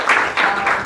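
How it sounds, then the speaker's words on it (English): Short burst of audience applause at an orientation event, three quick swells of clapping in under a second. "So big round of applause for each one of you."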